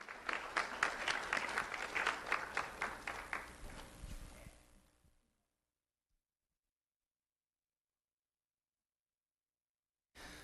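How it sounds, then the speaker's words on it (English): A school audience claps for student Jocelyn Itsep at a sheriff's office recognition ceremony. The applause is a dense burst that fades out after about five seconds and gives way to silence. "Let's have a round of applause for Jocelyn Itsep"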